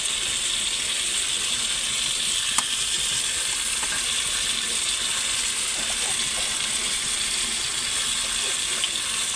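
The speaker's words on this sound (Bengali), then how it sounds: "ভালো করে নাড়িয়ে নাড়িয়ে সাঁতলে নেবো।" Potato and tomato stirred and sautéed in a hot pan, giving a steady, close sizzle that runs throughout with a few faint clinks of the spoon.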